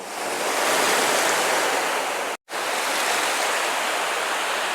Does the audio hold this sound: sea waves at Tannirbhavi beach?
yes